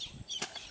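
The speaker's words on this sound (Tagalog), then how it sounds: "Guys, may ibon na guys sa tikling." Bird caught in a bamboo bird trap by a small fish pond, giving a few quick close wingbeat flutters in under a second.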